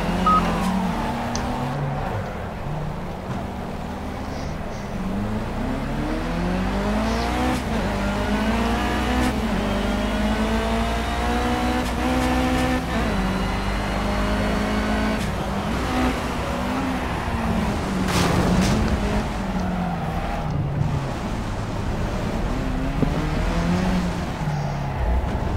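Race car engine in the Project CARS video game, played on a Logitech G27 wheel: moderate-volume engine tones repeatedly climb and fall through gear changes over about twenty-five seconds, with no talk.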